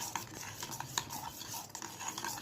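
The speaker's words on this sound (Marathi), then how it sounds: "आता याला मिक्स भरपूर हलवायचं याला" Someone stirs a slime mixture in a bowl with a utensil, giving soft repeated scraping and clinking taps, close and fairly quiet, with no talking.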